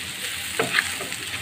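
Onions frying in a pan with salt and turmeric sizzle steadily as they are stirred, with a few soft scrapes from the spoon close up and no talking.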